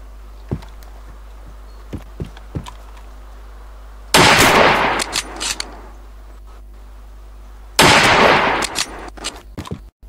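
Gunfire in the DayZ survival game: two heavy, loud bursts of shots roughly four seconds apart, each ringing out with a long echoing tail, separated by a few faint sharp clicks and pops in a quiet outdoor setting.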